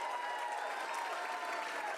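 Applause from the audience at a women's college graduation ceremony in Bangalore, where the sisters are being honored. Dense, even clapping continues without a break throughout.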